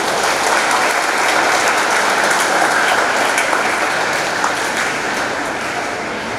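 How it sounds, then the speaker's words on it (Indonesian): A church congregation applauds during a First Communion Mass on a feast day, a dense, steady wash of many hands clapping together that holds evenly for several seconds with no talk over it. "Tepuk tangan untuk kita semua."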